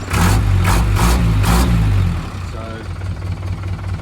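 A 1998 Mitsubishi Canter FG637 camper truck idles in neutral, a close, loud low rumble with a regular throbbing pulse that drops to a quieter steady idle halfway through.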